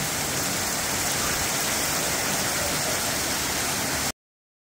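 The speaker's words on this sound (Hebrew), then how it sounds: "איזה גשם." Heavy rain pouring steadily during a trip in Romania, a dense, loud, continuous hiss that cuts off abruptly.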